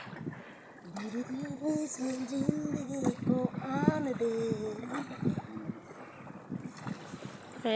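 A rowing boat moves on the swollen Dhansiri river with water sloshing and wind noise, while people talk over it.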